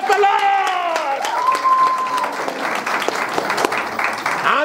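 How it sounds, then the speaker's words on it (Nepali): Loud applause from wedding guests at a Christian marriage ceremony in Nepal, dense clapping running throughout, with voices calling out and a sung or shouted tone rising above it early on. "प्रभुलाई जोरदार तालीबाट धन्यवाद दिनेछ"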